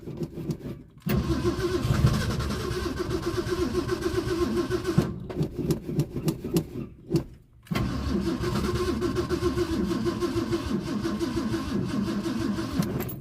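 Ford Mustang engine cranking and starting after a month unused, with a big exhaust leak: repeated starter cranking broken by brief pauses, then the engine catches and runs roughly with a loud, raspy, sputtering idle, close up and without talk.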